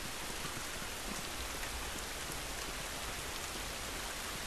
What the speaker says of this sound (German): Mal aus dem Regen raus wäre auch schön.